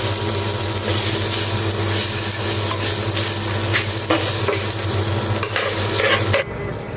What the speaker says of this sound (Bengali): মাংস হতে হতে আমি এই যে চালটা ভাজাই।